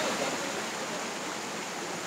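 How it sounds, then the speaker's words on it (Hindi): Chirchiri waterfall in Jashpur, Chhattisgarh, pours down in a steady, broad rushing roar of falling water, close and constant with no pauses or voices. "ये यहाँ से पानी नीचे की ओर जा रही है चिरचिरी वाटरफॉल का"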